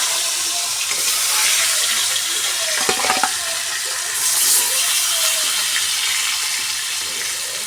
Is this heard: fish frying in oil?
yes